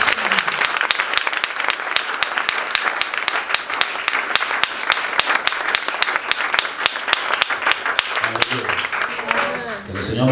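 A church congregation applauds steadily and loudly throughout, dense clapping filling the space with a brief lull near the end.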